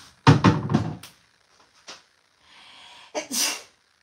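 A person sneezes loudly and close, a sharp burst followed by fainter breathy sounds, then a second abrupt sneeze-like burst near the end, in a kitchen setting.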